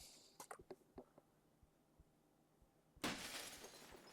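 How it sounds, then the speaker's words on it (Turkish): Window glass breaks in the horror video game Fears to Fathom: a few quiet taps and knocks, then a sudden loud shattering crash that trails off in scattered tinkling. "Camı kırdı lavuk."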